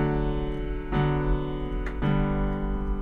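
Piano plays a few inverted chords in a left-hand accompaniment, with two or three soft, evenly spaced strikes that each ring on smoothly, alone and without talk.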